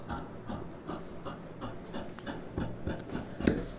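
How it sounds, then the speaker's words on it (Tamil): Scissors cut blouse fabric along the front neckline, making a steady run of close, rhythmic snips about three per second that ends in a sharper final clip. "இப்போ நெக்கு ஃப்ரண்ட் நெக்கு கட் பண்ணிக்கலாம்."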